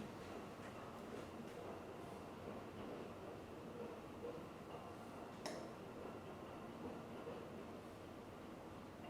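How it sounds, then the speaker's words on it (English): A train rumbles steadily in the distance, a low continuous roar lasting the whole stretch, with a faint metallic clink partway through. "Sorry for the train noise in the background."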